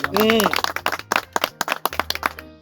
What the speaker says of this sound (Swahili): Makofi basi